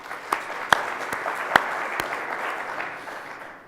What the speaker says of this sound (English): So round of applause for David and his team.